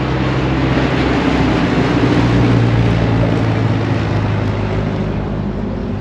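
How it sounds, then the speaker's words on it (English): Steady broadband roar of an airplane passing overhead outdoors at an abandoned, ruined mansion site, a sustained low drone that holds loud and even throughout with no talking. "Here comes another plane, look at that."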